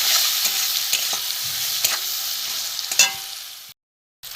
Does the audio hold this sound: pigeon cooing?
no